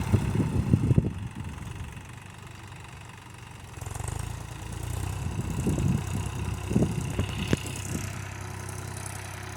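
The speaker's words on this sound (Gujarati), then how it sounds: "અમારા ટ્રેક્ટર તો શેડવા આવી હતી" A tractor engine runs in a farm field, a low, uneven rumble that idles and swells over several seconds with a few sharper knocks, fairly distant and steady, with no voices.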